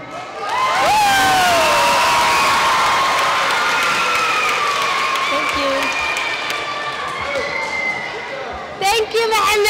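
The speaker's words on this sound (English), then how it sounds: "Give a round of applause for Mohammed again." An audience at a kindergarten graduation bursts into loud applause with cheers and children's whoops, a sustained roar of clapping and shouting that tapers slightly toward the end.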